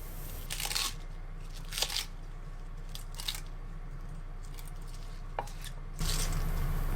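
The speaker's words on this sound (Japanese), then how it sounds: "まずキャベツは食べやすい大きさにザクザク切っていきます。" A knife cuts cabbage on a board in a few sharp, spaced crunching chops, faint against a quiet background, with a slightly louder burst at the end.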